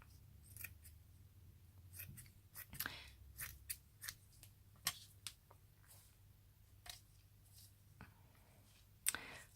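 Scissors snip through lace in a scattered series of crisp, close cuts, quiet and unhurried, with brief pauses between snips.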